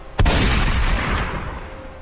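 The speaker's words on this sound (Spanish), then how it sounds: "la explosión de un disparo se escuchó" A single loud shotgun blast in a horror story narration, a sharp sudden crack followed by a long rumbling echo that slowly fades.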